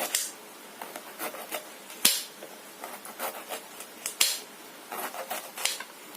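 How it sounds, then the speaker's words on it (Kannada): Knife slicing ridge gourd into round slices on a cutting board, sharp irregular chops and taps in quick clusters, close and fairly quiet with no talking. "ನನಗೆ ಹೀರೆಕಾಯಿನ ರೌಂಡ್ ರೌಂಡ್ ಕಟ್ ಮಾಡ್ಕೊಳ್ತಾ ಇದ್ದೀನಿ"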